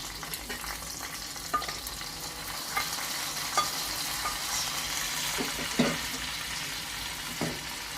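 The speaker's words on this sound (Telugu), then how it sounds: "ఈ వేగిన తాలింపుని ఉడుకుతున్న పొంగల్లో వేసేద్దాం" Fried tempering is poured into boiling pongal, and a steady, dense sizzle with faint stirring clicks runs throughout at close range, with no talk.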